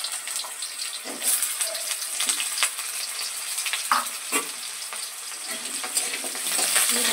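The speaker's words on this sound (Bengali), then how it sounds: "আলুটা ভালো করে ভেজে নেব।" Washed potato pieces fry in spiced oil with bay leaves in a pan, a continuous loud sizzle broken by repeated scraping stirs, close and without talk.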